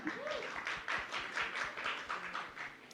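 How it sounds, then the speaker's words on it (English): Audience applause for a film director at a pre-release press conference, a few seconds of steady, somewhat distant clapping at moderate volume with no talking over it. "A big round of applause for him."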